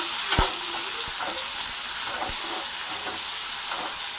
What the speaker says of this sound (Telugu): ఆయిల్ హీట్ ఎక్కిన తర్వాత ముందు కట్ చేసి పెట్టుకున్న ఆనియన్ వేసుకోవాలి.